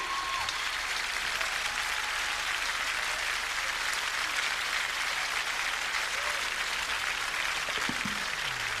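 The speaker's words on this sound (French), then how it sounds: "Sous vos applaudissements" A La Rochelle audience gives continuous, even applause as a folk-funk singer from Tahiti is introduced on stage, a steady crowd roar with faint voices mixed in.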